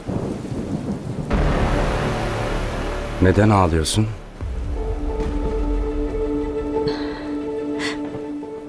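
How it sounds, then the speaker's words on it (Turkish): Steady heavy rain with a rumble of thunder, while people talk over it in a tense exchange. "Yağmur yağıyor."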